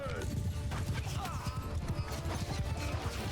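Cavalry horse hooves clatter in a busy clip-clop across a Mount & Blade II: Bannerlord battlefield, mixed with battle noise and a voice talking over them.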